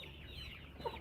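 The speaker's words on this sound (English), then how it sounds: "Bob is a chocolate silver lace Orpington." Bob, a chocolate silver laced Orpington hen, gives a short run of soft clucks at close range, with faint farmyard background and no talking.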